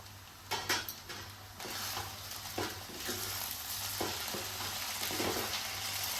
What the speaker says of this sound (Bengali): এবার এটা নাড়াচাড়া করতে করতে ঢেকে ঢেকে সেদ্ধ করব